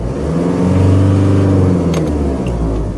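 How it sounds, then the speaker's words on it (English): A RAM ProMaster van's 3.0L engine, suffering low power and limp-home mode, runs at idle: a close, steady mechanical hum with a low layered drone that swells slightly midway, with no speech. "This engine idles well."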